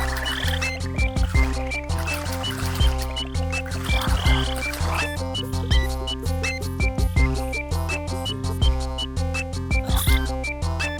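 Cartoon frogs croak in the idle game Croakoloco, with repeated chirpy croaks and ribbits over a rhythmic, bouncy musical backing, each croak short and close.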